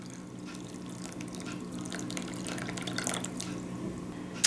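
Water runs steadily from a tap over raisins in a home kitchen, soaking them for a carrot cake, a continuous close trickle with small splashy fluctuations and no talk.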